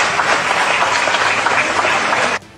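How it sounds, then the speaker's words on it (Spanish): A crowd at an airport applauds a departing firefighting task force, dense sustained clapping that cuts off abruptly near the end. "fue despedido entre aplausos y gratitud por la población boliviana"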